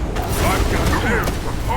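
Gun reload in the shooter game Wild Assault: a short mechanical clack and ratcheting click over dense game noise and low booms, with a voice speaking over it.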